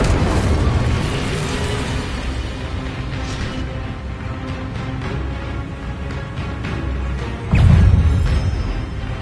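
Hogwarts Legacy Incendio fire spells burst with a rumbling, whooshing roar. Sharp booms sound around three seconds and again, loudest, near seven and a half seconds, over a constant dense game background, with no voices.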